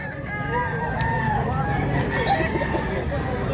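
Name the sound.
stag rooster crowing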